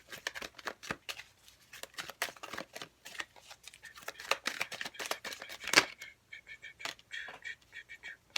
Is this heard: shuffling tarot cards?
yes